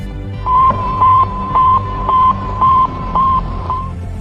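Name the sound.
Sputnik satellite radio beeping signal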